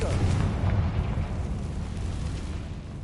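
A Confringo blasting spell explodes in Hogwarts Legacy, a single loud booming burst up front that rumbles and decays over a few seconds into a fading roar.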